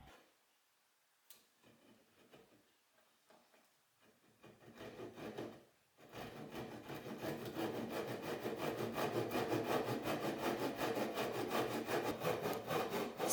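A hand saw cuts through a wooden branch propped on ridged boxes. Faint scrapes come first, then steady, fast back-and-forth rasping strokes that grow louder and continuous.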